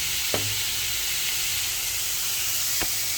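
Food sautéing in a pan at a small home store, with a steady, loud, dense sizzle that fills the whole clip and a couple of faint clicks of utensils against the pan.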